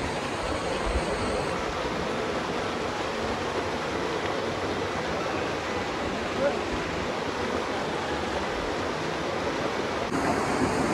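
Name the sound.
Bhadra waterfall rushing water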